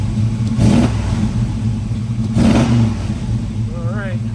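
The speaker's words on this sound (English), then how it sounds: "let's give it a couple revs" A 1967 Chevrolet Camaro RS convertible's 327 V8 engine rumbles at idle and revs up twice in strong bursts, each swelling then falling back to a low throaty idle.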